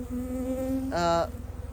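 Honeybees buzz up close around a queen in a steady droning hum, with a higher, louder burst of buzzing rising briefly partway through.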